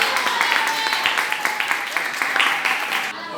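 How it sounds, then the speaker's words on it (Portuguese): Church congregation applauding during a sermon, steady clapping throughout with a few louder individual claps, fairly close and moderately loud, stopping abruptly near the end. "Vamos aplaudir a palavra do Senhor."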